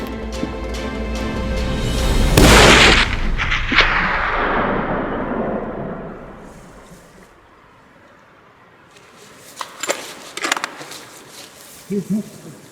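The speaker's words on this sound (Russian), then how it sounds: "Заняв удобную позицию, прицелившись, произвел выстрел" A single loud rifle shot cracks out in the Caucasus mountains during a tur hunt, then rolls away in a long echoing tail, followed by quiet and a few faint knocks.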